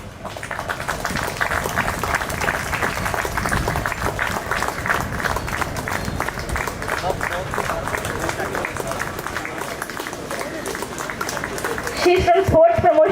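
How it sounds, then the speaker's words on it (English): Audience applause at the inaugural ceremony of a sports meet, sustained clapping from a crowd that continues for over ten seconds, with an announcer speaking over it and a louder burst near the end. "Much bigger applause."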